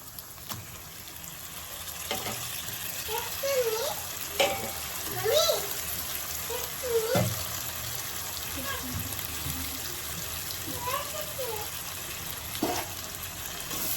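Chicken leg pieces sizzling and frying in a pan for chicken curry, with scattered pops and stirring scrapes, while someone talks over the cooking.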